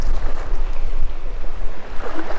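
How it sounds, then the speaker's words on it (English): Strong wind buffets the microphone on a public beach with surf rolling in, a loud, steady roaring rush that fills the whole short stretch. "A little windy today, but it's coming out of the north"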